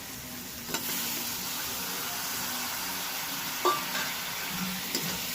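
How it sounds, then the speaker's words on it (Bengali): Tomatoes fry with spices in hot oil for a fenugreek chicken curry, making a steady close sizzle and hiss with a few faint scrapes of a stirring spoon. "এবার এটাকেও ভালো করে এর সাথে ভেজে নেবে।"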